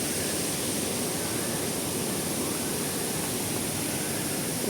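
Water flowing in a park, a constant, even rushing hiss like a small cascade or fountain, moderately quiet and unbroken, with no talk.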